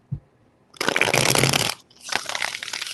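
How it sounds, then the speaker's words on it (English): Tarot cards being shuffled, a short tap and then two long riffling bursts of dense card flutter, close and fairly loud, with a brief pause between them. "What do we have for Pisces and their person? 3 shuffles."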